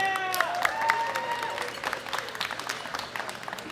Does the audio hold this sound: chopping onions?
no